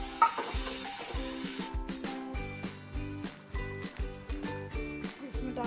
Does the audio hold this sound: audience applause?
no